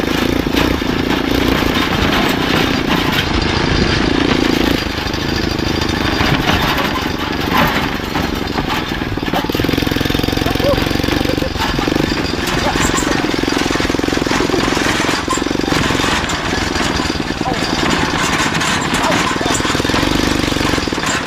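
A motorcycle engine drones continuously while riding a rough, cratered road, the loud rumble steady throughout with rattling bursts and voices talking over it.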